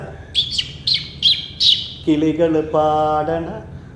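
A performer's voice imitates birds singing on a Malayalam comedy stage show: five quick high whistled chirps in a row, then a longer run of sung, warbling tones, loud and close.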